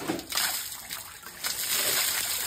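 Water runs constantly from an overflow onto flat ground, a close, steady splashing trickle with small surges and no one talking.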